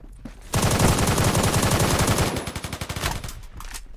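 Automatic fire from a Type 20 rifle in Phantom Forces, a loud, sustained burst of rapid, evenly spaced shots that loosens into distinct cracks, then trails off into a few scattered reports.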